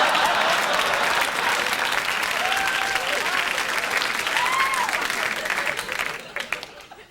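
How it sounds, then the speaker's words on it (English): Sustained, noisy applause from a national conference audience, dense and steady throughout before thinning out at the very end. "holding one in until the next noisy applause break"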